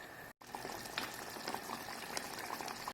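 Tomato sauce with fresh fish, green chillies, peppers and onion simmers in a pot, giving a close, steady bubbling and popping that runs on after a brief cut near the start.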